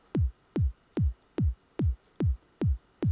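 Boomy psytrance kick drum built in Logic Pro X with exaggerated low end, eight deep thumping hits with falling pitch, repeating at a steady fast beat, loud and isolated.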